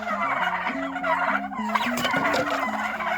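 Turkeys gobble loudly and repeatedly at close range on a farm, a rapid warbling chorus of overlapping calls with no talking.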